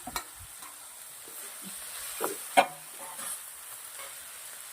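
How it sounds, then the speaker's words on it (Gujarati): Fried baby corn and red chillies being stirred in a pan for a sweet chilli corn starter, with a soft continuous sizzle and a few sharp scraping clinks from the spoon, close and fairly quiet. "હવે આપણા તળીને નાખી દઈશું બેબીકોર્ન અને લાલ મરચાં."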